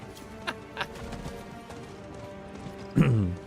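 Horse hooves clip-clop in the PC game Rogue Flurry, a few spaced hoof strikes ending in a louder, snorting burst near the end.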